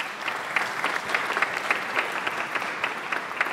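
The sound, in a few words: audience applause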